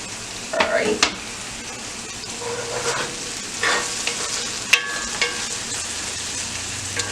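Onion and bell pepper sizzle in olive oil in a pan with a constant crackle. Intermittent scraping stirs and utensil clinks sound close by.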